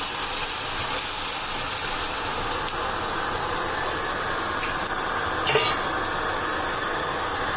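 Fish gravy with meat masala and turmeric simmers in a pan, giving off a steady, even hiss and bubbling that carries unbroken through the whole stretch without any voices.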